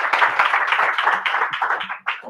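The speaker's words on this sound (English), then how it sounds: "can y'all just stand up and let's just clap for this man as he's coming to the stage?" An audience claps and cheers as a speaker walks up to the stage at a live event, steady dense applause filling the room before a short break and a final burst.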